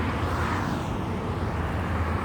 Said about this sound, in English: There's a little plane up there.